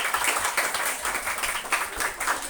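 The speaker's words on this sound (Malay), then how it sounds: "Bagi tepukan kepada PIBG kita." A crowd claps steadily throughout, a dense, continuous patter of applause in a large space at a school event, with no voices standing out.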